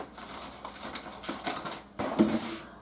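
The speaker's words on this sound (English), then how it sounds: "I'm going to use double-sided tape" Double-sided tape being pulled and pressed onto the back of a handmade fall card, a run of soft close taps, crinkles and tearing rasps, with no talking.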